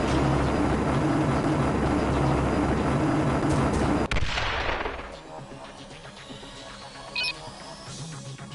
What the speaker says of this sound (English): a helicopter keeps strafing the deck